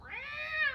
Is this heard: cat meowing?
yes